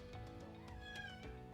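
A cat meows a few short times, the calls soft and faint against a quiet room with no talking.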